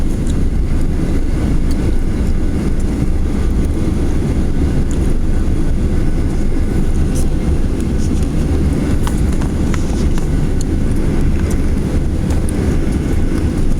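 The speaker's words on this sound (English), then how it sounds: "And here's takeoff on runway 10 left. Listen to this engine sound." Jet engine of an American Airlines Boeing 737-800 during its takeoff roll on the runway, heard from a seat near the engine: a loud, steady low-frequency roar with broadband rumble and hiss that holds evenly throughout, with no talk.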